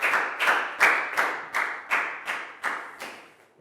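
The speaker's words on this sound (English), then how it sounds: "High five and a big round of applause for Prel, please, guys." A Year 4 maths class gives a round of applause in a classroom, heard as about ten evenly spaced, crisp claps in a steady rhythm, each ringing briefly in the room.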